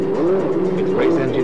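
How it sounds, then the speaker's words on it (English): Rebuilt Williams Formula One race car engine running in the garage, a loud steady engine drone with a wavering pitch. "Back at Williams, the rebuilt car is fired up. Its race engine primed."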